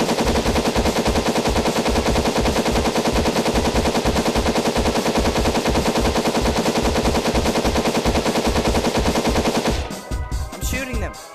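Rapid automatic gunfire in a video game plays as one loud, continuous burst of evenly spaced shots for about ten seconds, then cuts off into quieter game sounds.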